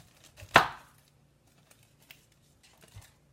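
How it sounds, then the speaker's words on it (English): A 5-inch Santoku knife slicing the top off a pineapple: one sharp, close crunching chop on the cutting board, followed by faint light taps and near silence. "I'm going to use our 5-inch Santoku knife and go through, cut the top off of my pineapple"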